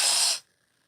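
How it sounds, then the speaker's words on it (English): Someone blows their nose in one short, forceful breathy burst that cuts off abruptly, close and alone. "I need to blow my nose."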